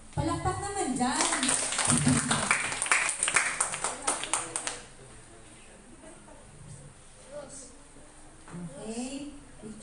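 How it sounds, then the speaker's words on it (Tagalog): Clapping from an audience at a church vacation Bible school gathering: a few seconds of lively, fairly close handclaps that fade out, with voices talking in the room before and after. "Palakpak naman dyan."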